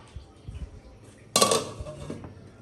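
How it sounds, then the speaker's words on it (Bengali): A lid set over a pot of dal, a single sharp metallic clatter partway through, preceded by soft knocks and followed by a fading ring. "ডালটা একটা ঢাকনা দিয়ে আমি ঢেকে দেবো।"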